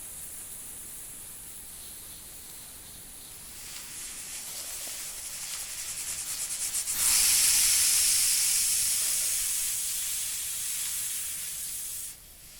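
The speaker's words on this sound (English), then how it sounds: "And now put on the cooker weight on the lid, and after that turn on the stove." Pressure cooker on a stove in the cooking game Venba, hissing steam: a broad airy hiss that swells partway through, grows loudest and steady, then cuts off abruptly near the end, with no voices.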